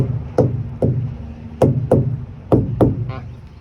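Truck tires being knocked to check air pressure: seven sharp, woody thumps spaced irregularly, close and fairly loud over a low steady engine hum.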